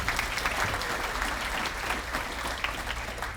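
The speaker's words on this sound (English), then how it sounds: "Give a round of applause to our staff." Sustained clapping from the audience at an awards celebration, given for the staff, a thick even wash of many hands heard at moderate distance and kept at a fairly steady level for the whole stretch.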